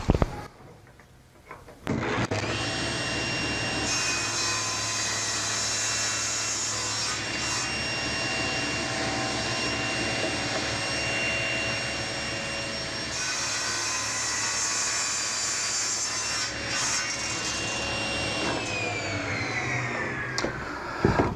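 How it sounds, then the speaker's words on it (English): A power saw cuts the ends of wood blocks at a 20-degree angle for a poker table, a loud continuous whining buzz that spins up after a short start and runs steadily for about twenty seconds before winding down. "I'm going to go ahead and cut the ends at 20 degrees"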